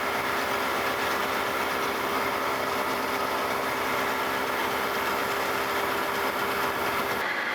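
Machine cutting metal while grinding knives for a metal shear held in a fixture, taking about a fifty-thousandths depth of cut; a loud, steady, continuous machining roar that drops away just before the end.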